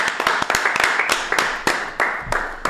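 Crowd clapping for Saka's hat-trick during England's 7-0 win over North Macedonia in a EURO qualifier, with a dense, steady patter of applause broken by sharper individual claps throughout.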